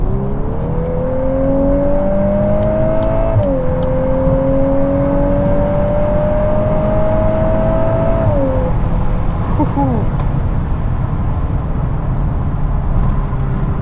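A 2022 VW Golf R MK8 with DSG gearbox and all-wheel drive pulling hard on throttle from inside the cabin, engine tone rising steadily, a quick upshift dip partway, then easing off under constant road roar.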